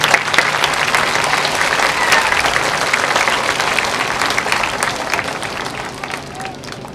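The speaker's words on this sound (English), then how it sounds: "Please give our band staff a round of applause." Sustained crowd applause for the band staff at an Honor America Night concert, a thick, continuous roar of clapping that eases slightly toward the end.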